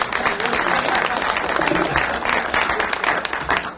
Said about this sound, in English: let's give Wayne McBride and his team a round of applause